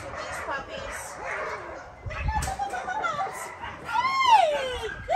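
Young puppies bark and yip in short, scattered, high-pitched bursts close by, with a rising whine near the end, while someone speaks softly among them.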